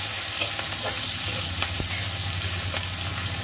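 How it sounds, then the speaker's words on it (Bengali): Onion frying in a pan with a close, dense sizzle, as a spoon scrapes and stirs through it in soft irregular strokes, with no one talking. "একটু লাল লাল করে ভাজা হবে পেঁয়াজটা"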